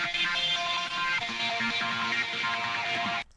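Thick, heavily distorted electric guitar power chords for a hard rage beat ring out loud and sustained, cutting off abruptly near the end.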